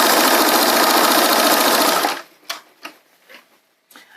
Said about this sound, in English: I like to sew from the inside if I'm just using my sewing machine.